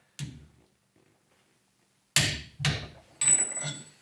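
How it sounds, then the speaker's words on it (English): Metallic clanks and clicks from a torque wrench tightening an axle nut on a Heidts chassis, with one early knock, a pause, then three firm close hits in quick succession, no speech. "The instructions state that you want to torque down the axle nut to 100 foot-pounds."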